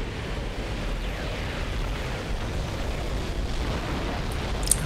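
A sustained, roaring rumble from the ion cannon blast in the Firestorm strategy game, a dense wash of noise that holds steady throughout with a brief sharp pop near the end.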